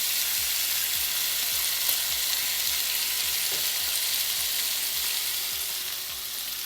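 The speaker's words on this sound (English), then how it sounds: "Fry up some bacon and the eggs." Bacon and eggs frying together in a pan, giving a strong, even sizzle heard up close with a faint repeating low thump underneath, steady throughout and easing slightly at the end, no voices.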